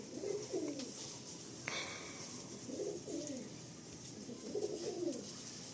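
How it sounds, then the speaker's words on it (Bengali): Tikki Golden Eyes pigeons for sale coo in short rolling bursts about every two seconds, close and moderately loud, with a brief metallic clink in between. "কত সুন্দর পায়রা"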